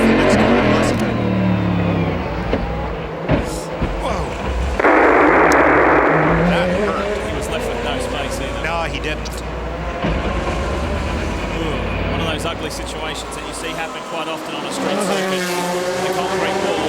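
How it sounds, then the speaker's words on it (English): A sports prototype race car at the ALMS Miami race, heard onboard as its engine roars continuously through a corner, pitch rising and falling with the gears, loud and close throughout. "Onboard Johnny's car. Let's watch him set up here for the next corner."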